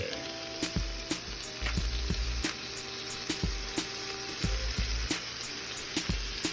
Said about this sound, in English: Jalapenos are in. Both my hands are now covered in spicy sauce. Alright, so we're gonna stir fry all this up, or saute all this up